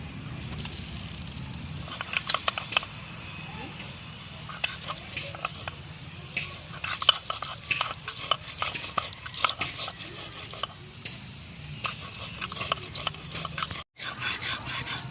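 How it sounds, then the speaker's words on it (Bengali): Chili and cumin being ground into a paste on a grinding stone, a close, irregular run of gritty scraping and clicking strokes that pauses briefly near the end. "আমি এবার কিছুটা লঙ্কা আর জিরে বেটে নেব"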